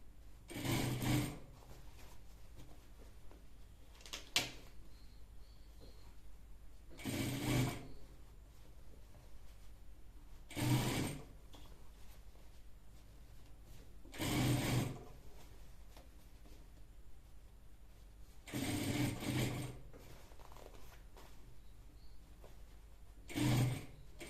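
A sewing machine stitches a round Yoruba men's cap in five or six short bursts separated by quiet pauses, fairly faint and close.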